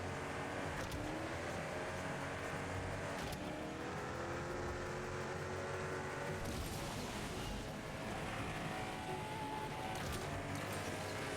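Koenigsegg Agera RS or CC850 engine screaming at top speed on a San Diego track in the Asphalt Legends racing game, a sustained high whine with shifting pitch sweeps and bursts of whoosh, no speech.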